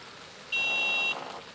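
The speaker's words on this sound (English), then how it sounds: "That'll be my alarm a moment." A single steady electronic beep sounds for about half a second over a soft hiss, a carp fishing bite alarm going off in France.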